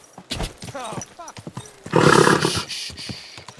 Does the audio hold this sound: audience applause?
no